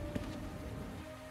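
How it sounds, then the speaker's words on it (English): Steady rain falling outside a window in the game Chronicles of Mystery, a soft continuous patter with a faint tonal hum underneath and one brief knock near the start. "This rain."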